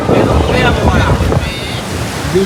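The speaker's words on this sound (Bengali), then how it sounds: "ঢেউগুলো দেখো, জাস্ট প্রচুর ঢেউ।" Sea waves surge and break on the beach at Digha under cloudy, windy weather, a continuous loud wash of surf with heavy wind buffeting the microphone and a faint voice briefly beneath.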